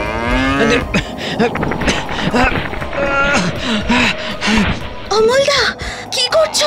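An animated calf moos repeatedly for its mother, its tree-blocked calls rising and falling in several drawn-out bellows, close and loud, with people talking over and between the cries.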